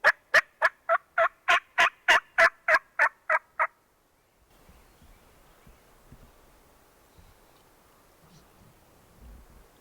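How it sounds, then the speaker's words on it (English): A rapid series of about a dozen loud wild turkey gobbles rattles out for several seconds, then stops, leaving faint rustling and outdoor ambience. "Let's go kill a turkey. Gobble, gobble, gobble."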